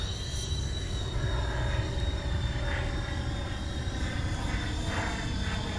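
A ducted FPV drone on a 4S LiPo holds a steady, loud propeller whine with a high tonal hum while flying into the wind, continuous and unbroken without voices.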